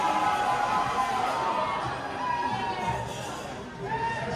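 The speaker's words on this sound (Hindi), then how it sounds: "यहाँ बहुत आवाज़ है, इतनी भीड़" A dense, noisy crowd at a New Year celebration in New Zealand, with a steady wash of many overlapping voices, chatter and occasional shouts that stays loud throughout.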